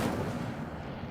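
Incendio fire spell cast in the Hogwarts Legacy video game, a short booming fiery burst with a heavy low rumble that fades quickly.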